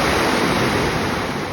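Sea water surges through the Whales blowholes on the rugged New Zealand coast, a steady, loud, close roar of rushing surf with some wind buffeting and no voices.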